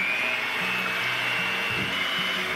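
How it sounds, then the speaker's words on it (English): An electric hand beater fitted with whisk paddles whirs steadily as it whips eggs in a large bowl, a continuous close motor hum with slight pitch shifts. "I'm just gonna use the whisk paddles on my beater."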